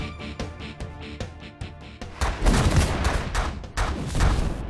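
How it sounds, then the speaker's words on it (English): Video-game spread shot gunfire in The Last Federation: a rapid, dense stream of synthetic blasts and booms over game music, growing louder midway and continuing without talk. "Now I can just circle around him, firing my spread shot on him."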